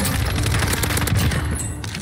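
A BP50 assault rifle fires in the video game Warzone, a loud continuous burst of rapid automatic gunfire that runs unbroken for about two seconds, close and dense, with no talk over it.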